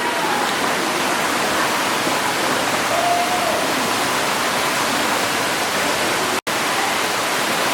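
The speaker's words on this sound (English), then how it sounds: "We're at the waterfall." A waterfall in Canada roars as a steady, loud broadband rush of falling water, continuous and close, with a brief dropout near the end and no voices over it.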